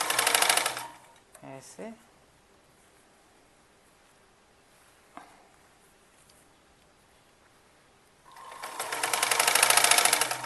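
Sewing machine stitching a kurti seam: a loud whirring run of rapid stitches at the start and a longer one at the end, with quiet handling and a brief spoken word in between.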